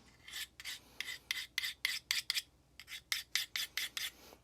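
A Magnacut steel Funayuki knife is drawn by hand across a King Hyper 1k whetstone in about thirteen rhythmic gritty strokes, close and clear, with a short pause midway and no talking.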